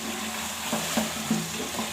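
Potatoes go into a pan of spices frying for chicken biryani, a steady close sizzle with a few soft stirring clunks and scrapes, no talk.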